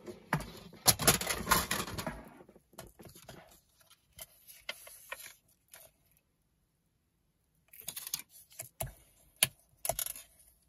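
Paper being folded by hand for a scrapbooking mini album with envelopes: crisp crinkles and taps close up, a dense burst at the start, scattered soft rustles, a quiet pause, then more handling near the end.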